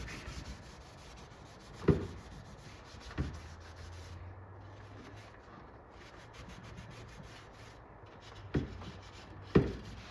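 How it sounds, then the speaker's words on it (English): Sandpaper rubbing steadily across a painted cast aluminum arcade cabinet part to rough up the old paint, a continuous close scratchy hiss broken by a few sharp knocks and thumps. "all we're doing is basically just roughing this up so that paint sticks"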